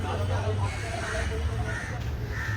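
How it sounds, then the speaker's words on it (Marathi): Crows caw repeatedly at a moderate distance at Rani Baug zoo in Byculla, Mumbai, over a steady outdoor background, with voices murmuring nearby. "हे बघा इथे कावळे पण उडत आहेत"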